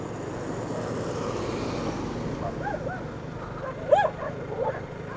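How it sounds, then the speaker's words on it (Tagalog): Dogs barking a few times at some distance along a road ride in Infanta, Quezon, faint yips and one sharper bark over a steady engine and road drone. "Pwede mga aso ito nang hahabol"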